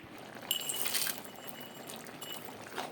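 Crushed lentil dumplings are tipped into a pan of simmering spinach, giving a brief close clatter and splash that settles into steady bubbling and sizzling, with no talking.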